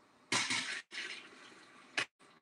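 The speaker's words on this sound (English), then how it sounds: "I'm just going to put this water in there." Water poured in a few splashy bursts into a home canner for tomato sauce, close and soft, with brief pauses between pours.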